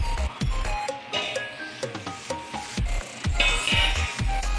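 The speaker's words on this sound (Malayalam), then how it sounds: "പുളിവെള്ളം ഒഴിച്ചു കഴിഞ്ഞ് നല്ലതുപോലെ ഒന്ന് ഇളക്കി കൊടുക്കുക." Homemade fish curry with freshly added tamarind water gets stirred in a pot, giving a series of close, rhythmic scraping and rubbing strokes with occasional light clinks.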